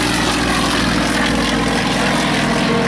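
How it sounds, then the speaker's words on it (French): A propeller airplane roars steadily and loudly close by as it takes off at the Guiscriff air show, a dense continuous engine drone with no voices. "Il vient de faire décoller cet avion sous les yeux de son épouse Anne"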